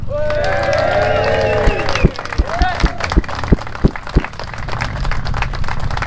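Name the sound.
crowd clapping and cheering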